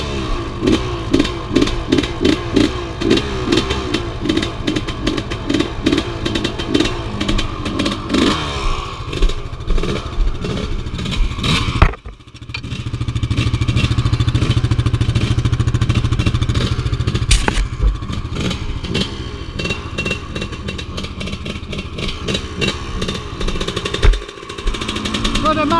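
A two-stroke motocross bike engine revs hard nearby with a sharp rattling buzz, cuts out abruptly, then a steady loud drone follows before another short burst, with voices talking in between.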